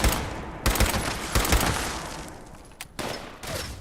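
A Berserker explosive pipe rifle fires in Fallout 76 in several sharp bursts of gunfire separated by short pauses, loud and close.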